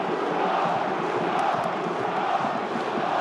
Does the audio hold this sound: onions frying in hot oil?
no